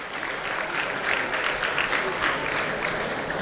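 Crowd applause for prize winners at a Maitrimilan event, continuous dense clapping from a large audience with slight swells in intensity, no one speaking above it.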